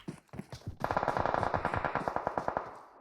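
M4 rifle fire in a competitive first-person shooter match: a few separate shots, then a rapid burst of automatic fire rattling for about two seconds before fading.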